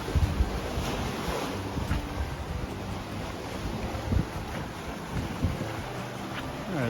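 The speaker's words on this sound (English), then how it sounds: "Hear the ocean crashing on the rocks." Ocean surf crashes on rocks in repeated surges at Koh Larn Island, Thailand, mixed with gusty wind buffeting the microphone; no one speaks.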